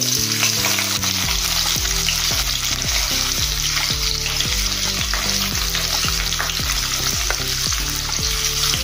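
Cumin seeds and a bay leaf fry in hot oil for a chana dal pulao, giving a loud, dense, continuous sizzle and crackle heard close up, while music with a steady rhythmic pattern plays underneath.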